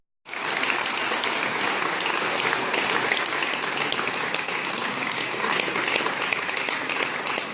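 Audience applause at an award ceremony where silver and bronze plaques are presented: a sustained, dense burst of many hands clapping that starts abruptly and stays loud and even to the end.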